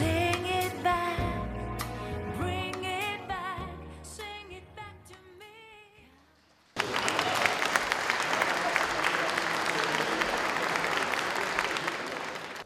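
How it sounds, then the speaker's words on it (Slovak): Instrumental music plays and fades out, then a ballroom audience at a school's formal ball bursts into loud, steady applause to welcome a dance couple. "Privítajme potleskom tanečný pár Sofiu Miu Ondrášikovú a Iva Julinka."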